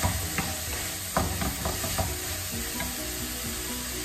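Chicken palak with lemon juice being stirred in a frying pan, steady sizzling with scraping stir strokes and a few sharp spoon knocks against the pan, close and continuous.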